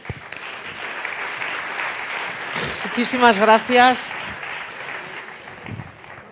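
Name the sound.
audience applause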